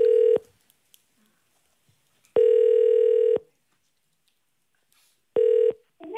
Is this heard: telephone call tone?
yes